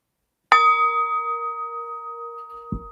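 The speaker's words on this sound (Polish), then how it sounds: "misa tybetańska i nasz gong, uwaga" A Tibetan singing bowl and a gong struck once together, a bright metallic strike that rings on in a long, steady, slowly fading tone before a brief low thud near the end.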